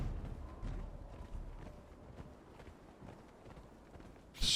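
Hooves of a horse in the survival video game Conan Exiles, Isle of Siptah, thud in a quick, steady galloping rhythm, soft and low, ending in a sudden louder burst of noise.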